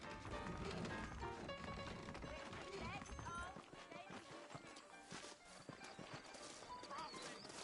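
Horse hooves clip-clop in a steady walking rhythm in the video game Red Dead Redemption, close and clear, with a brief whinny among the hoofbeats.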